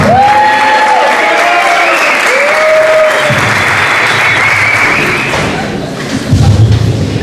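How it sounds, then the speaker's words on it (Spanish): An audience at a national formation day gathering breaks into loud sustained applause, dense clapping filling the room for several seconds before fading as talk resumes. "le vamos a dar un fuerte aplauso porque este año cumple 25 años de consagración"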